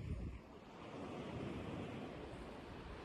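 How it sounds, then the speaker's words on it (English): Ocean waves crash and wash onto a beach as the tide comes in, a broad, continuous roar of surf mixed with wind buffeting the microphone. "the waves are sort of crashing and the tide's coming in."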